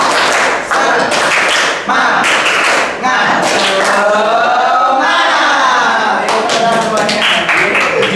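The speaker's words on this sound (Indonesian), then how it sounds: "Tepuk semangat bisa ya?" A classroom of standing students performs a rhythmic spirit clap, tepuk semangat, in an Indonesian school lesson, sharp claps and taps in patterned bursts with voices chanting along throughout.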